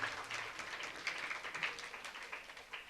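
Audience applause at a church feast-day flag-raising Mass, faint and distant, a thin steady patter of clapping hands lasting a few seconds with no voices over it.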